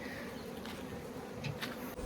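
Honey bees buzz around beekeeping hive boxes on a bee farm. A steady, fairly faint drone hums throughout, with a few brief, louder passes from individual bees close by; no one speaks.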